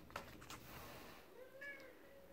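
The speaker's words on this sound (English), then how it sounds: "That was my cat." A house cat meows faintly indoors, a short soft rising call near the end after a few small bumps, quiet and alone without talk.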